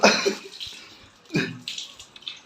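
Dishes and plates being rinsed under water in a shared bachelor household: two short, close splashing bursts of running water against crockery, with quieter dripping between them.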